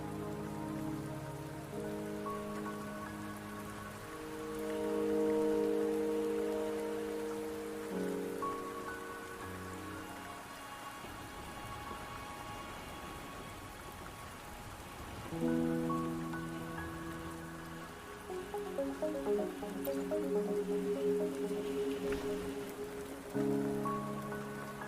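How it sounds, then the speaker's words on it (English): Steady rain falling on surfaces in the video game Wuthering Waves, a continuous wash of drops beneath a soft, sustained musical score that swells and fades throughout. "Don't worry, the rain won't last much longer."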